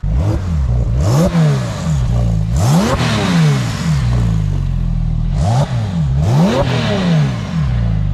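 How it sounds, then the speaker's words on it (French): A sports car engine revs hard several times, each blip rising and falling quickly, loud and close, with whooshing turbo sounds between revs. "Un joli son moteur"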